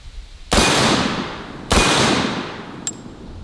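Two loud, sharp shotgun blasts from a Typhoon F12 semi-auto 12 gauge firing Winchester hollow point slugs, about a second apart, each with a long ringing tail outdoors, followed by a faint metallic clink.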